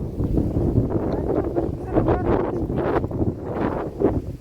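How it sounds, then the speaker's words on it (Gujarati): Strong wind buffets the microphone over a farm field during wheat harvest, a continuous low rumble with gusty surges, loud and close, without talk. "મિત્રો આજ તો પવન નીકળો બીજી રીતનો"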